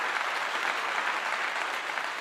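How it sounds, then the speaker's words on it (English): Dense, steady clapping fills a room at a post-game press conference after Colorado's football win over Texas Tech, sounding like many hands at once, fairly close and continuous with no talk over it. "I give you a clap"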